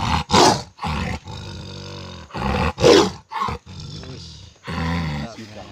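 A Sumatran tiger caught in a trap gives repeated loud, rough roars and growls at close range in several bursts, with people talking between and over them.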